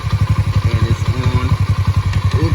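A pit bike engine idles while warming up, its carburetor leaking gas, giving a steady, close, loud rhythmic thumping pulse with some mechanical clatter and no talk.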